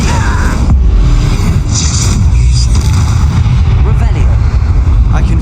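An Incendio fire spell is cast in Hogwarts Legacy: loud, booming bursts and crackling blasts in quick succession, with voices heard alongside.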